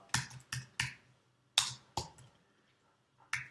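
Keys on a computer keyboard tapped one at a time, about six distinct, fairly close clicks spread irregularly, with short pauses and a longer gap before the last stroke.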